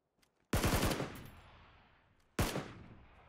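Two loud gunfire bursts in the PUBG video game: a rapid multi-shot burst followed after a short gap by a second single crack, each with a long fading echo and no talking.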